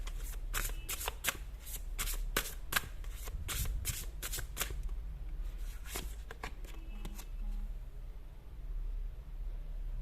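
Tarot cards shuffled by hand in quick papery riffles and taps through the first half, then fading to a few soft slides, quiet and close.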